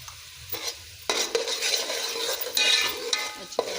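Onions stirred in a pot with turmeric and salt, a spoon scraping and clinking through a soft sizzle, louder bursts of stirring coming in uneven strokes.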